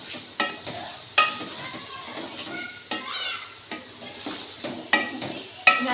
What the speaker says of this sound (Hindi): हमारे चनों की भुनाई हो रही है